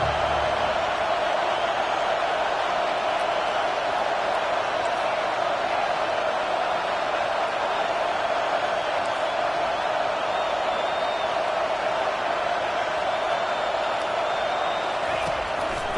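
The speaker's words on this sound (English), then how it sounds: "Listen to this crowd just shaking the girders of this place trying to help their defense." A stadium crowd at a Georgia college football game against the Rebels, a constant, dense roar that holds steady throughout and sits loud and broad in the background.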